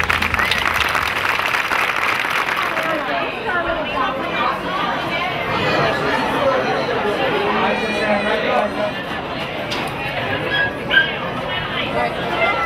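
A gathering at a community art project celebration claps for its artists and sponsors, a brisk burst of applause in the first few seconds that gives way to crowd chatter and voices talking nearby.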